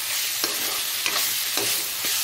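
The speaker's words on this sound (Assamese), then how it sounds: "আৰু এতিয়া অলপ ভাজি ল'লোঁ" Spices frying in a pan give off a continuous bright sizzle, with a few sharp stirring scrapes at regular intervals, close and alone.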